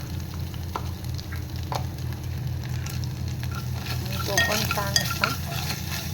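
A pinch of asafoetida sautéed in ghee for a tempering gives a steady low sizzle with frequent spoon-stirring scrapes, and a brief voice speaks near the start over the cooking.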